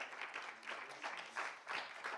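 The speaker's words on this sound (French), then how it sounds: "Et on peut encore les applaudir." Faint, somewhat distant applause rises and falls in uneven waves as an audience at the TDAY Hackathon 2019 claps for the winning team.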